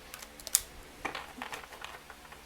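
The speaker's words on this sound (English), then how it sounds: "No problem shuffling like that." A tarot oracle card deck being shuffled by hand, soft quick papery flicks and clicks in small bursts, faint and close in a quiet room.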